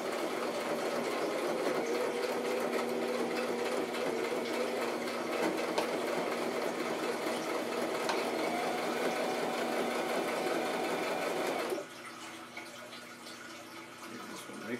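A sewing machine runs steadily while stitching a pocket onto a handmade handbag, a continuous whirring hum that stops abruptly near the end, leaving a quieter background.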